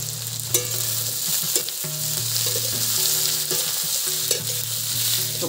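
Onions with a little salt frying in a pan, a steady close sizzle running throughout under soft background music, with a few brief clatters from stirring.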